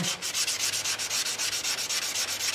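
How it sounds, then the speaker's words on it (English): Hand sanding honey locust wood with 320 grit sandpaper: close, steady back-and-forth strokes in an even, rapid rhythm of roughly five per second, a dry rasping scrub with no voices. "I'm going to hand sand this with 320"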